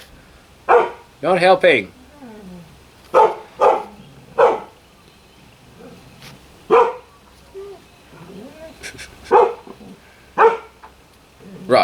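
Dogs bark in short repeated bursts at a woodturner's workshop, several loud close barks and yips scattered across the clip, with someone talking between and over them.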